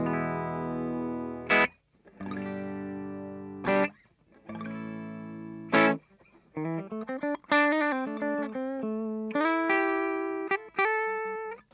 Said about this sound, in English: this is just the clean tone that I'm using.